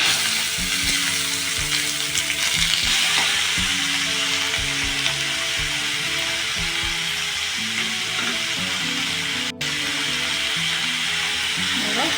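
Chopped onions sizzle steadily in hot oil with cloves and cumin, a continuous close frying hiss with occasional stirring scrapes and faint low background noise, no talk.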